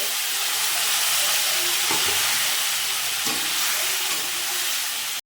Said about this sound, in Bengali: বন্ধুরা, ভাজা হয়ে গেছে, মশলা ভাজা হয়ে গেছে।